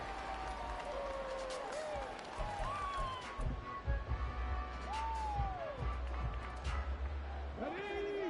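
A large crowd at a Colts football stadium makes a broad, steady roar with rising swells and scattered claps, while a commentator's voice and other voices sit over it.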